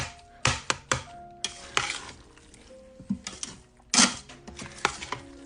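A spoon stirs and breaks up veggie taco filling in a pan, giving irregular sharp scraping clacks and knocks against the cookware, close and fairly loud, with no voices.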